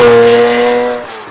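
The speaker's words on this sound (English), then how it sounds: "This is the exhaust, not typical of an SC." A modified 1984 Porsche 911 SC in Grand Prix White with an aftermarket exhaust lets out a loud, close, tonal engine note that holds steady before fading away over about a second.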